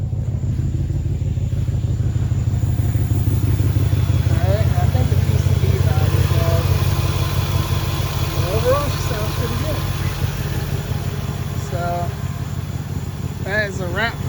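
The engine of a 2006 Range Rover runs after starting and settles into a steady, loud idle rumble. A person talks intermittently over it.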